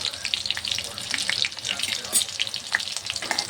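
Soya chunks frying in oil with cumin give a dense, crackling sizzle with small spitting pops, close and moderately quiet, with no voices.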